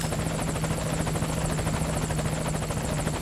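A helicopter's rotor thumps steadily and loudly with a droning engine whine as it arrives in Metal Gear Solid V: Ground Zeroes, close by and constant throughout.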